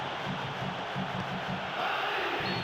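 Crowd noise in the PES 2013 football video game, a steady, distant stadium roar with rhythmic chanting pulses rising slightly toward the end.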